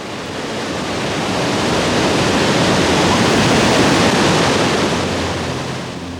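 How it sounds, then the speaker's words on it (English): Sea waves break on a rocky shore in a broad, loud roar of surf that swells to a peak and slowly eases, with no voices. "Start with the sea."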